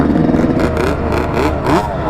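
The engine of a 430cc race quad revs up and down in a few quick surges, its pitch climbing and falling close by with a rough, buzzing exhaust note.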